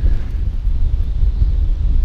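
Strong wind buffets the microphone while fishing for small pike with a spinning rod from an anchored boat, a loud, steady low rumble with gusting swells and no talking.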